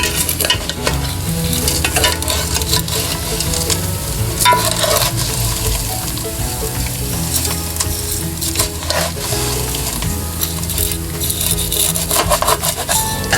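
Sevai vermicelli roasting in a pan gives a continuous close scraping and stirring with a soft dry sizzle, steady and loud throughout, no talking.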